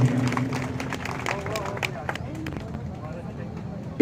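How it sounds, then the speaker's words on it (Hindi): Audience applauding a student who won a silver medal in 12th grade at an award ceremony, steady clapping throughout with crowd murmur mixed in. "जोरदार तालियां बजाएं किरण जागृत के लिए।"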